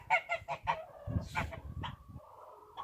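A goose honks in a rapid run of loud calls near a compost pile where chickens scratch, followed by softer clucking and fowl chatter.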